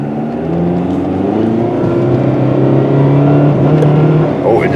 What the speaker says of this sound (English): this thing does not sound like it has a single wheel bearing that is any good.